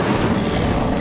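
Incendio fire spell in Hogwarts Legacy erupts as a brief, loud, rushing fiery boom that stays dense and steady for about a second, with no talking.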